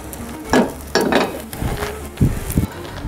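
Sotanghon noodles being stirred in a pan, with a soft sizzle and a few scraping, clattering utensil strokes in quick irregular bursts, close and fairly loud.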